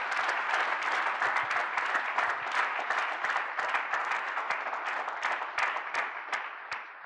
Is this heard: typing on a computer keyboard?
no